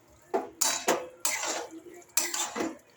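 A spoon stirring cauliflower and potato raita in a bowl, with several sharp clinks and scrapes against the dish at uneven intervals, close and fairly quiet, with no talk.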